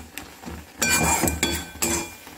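A spoon stirs an orange barfi mixture in a pan while it cooks. It makes several sharp metallic clinks and scrapes, with a few distinct knocks spaced over a couple of seconds.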